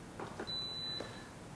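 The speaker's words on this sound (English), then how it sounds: "Now plug it in, and you're going to hear the machine beep." A single short, high electronic beep from a Mattinata 20-bar espresso machine on being plugged in sounds once, fairly quiet against a faint background hum.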